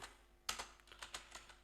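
Keys clack on a computer keyboard in a short burst of about eight quick, light taps, close-miked and quiet.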